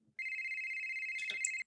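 A phone ringtone sample sits in a house-style EDM track, a single bright electronic tone ringing steadily for about a second and a half before a short burst of other synth notes and a sudden cutoff.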